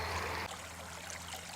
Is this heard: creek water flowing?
yes